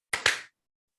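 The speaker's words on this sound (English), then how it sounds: "On 3, we do a clap." Two sharp hand claps close together from podcast hosts in a quiet room, the second slightly fuller, then silence.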